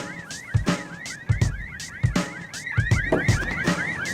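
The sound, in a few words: car alarms going off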